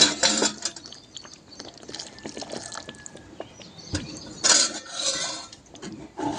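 Utensil scraping and clinking in a pot of simmering ridge gourd curry in black masala, close and uneven, with a few louder metallic knocks and wet bubbling between strokes.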